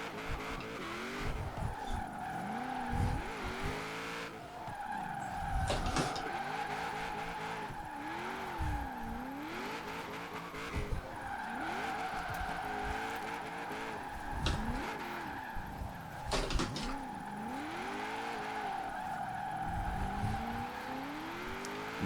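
A heavy Chevrolet Impala SS drifting in Forza Horizon 4, over 3,000 pounds, its engine revving and falling in steady swoops while tires squeal through long slides, loud and continuous with no talking.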